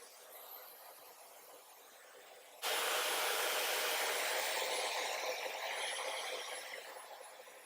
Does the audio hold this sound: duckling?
no